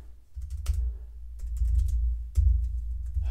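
Keys on a Commodore 64 keyboard click in short irregular bursts while a BASIC program is typed, close and crisp over a constant low electrical hum.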